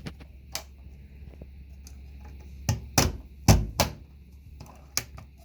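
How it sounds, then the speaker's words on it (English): A stapler fastens foam to a face shield headband: several sharp, separate clacks spaced over a few seconds, close and fairly loud, with quiet gaps between them. "Again, nice and slow on the stapler."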